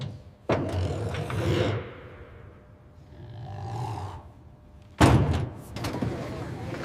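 An aircraft emergency exit door being opened: a heavy clunk, a rushing rumble, a quieter scraping swell, then another loud thunk with rattling movement, close by.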